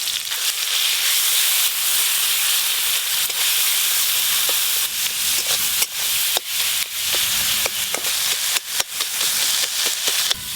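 Prawns, whole cumin, bean seeds and green chillies fry in hot oil, making a steady loud sizzle broken by frequent sharp pops and spits.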